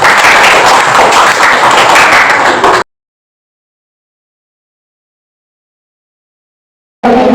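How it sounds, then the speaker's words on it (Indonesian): A classroom of junior high school students at SMP N 1 Batanghari gives a student group a burst of dense, close applause lasting a few seconds. Silence follows, then a brief return of sound at the very end. "Kita beri aplaus kepada kelompok Nazel."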